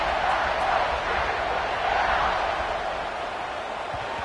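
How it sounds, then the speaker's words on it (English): A stadium crowd at an SMU at Ohio State college football game keeps up a loud, steady, broadband buzz and roar for several seconds without a break. "this crowd is buzzing after that last score"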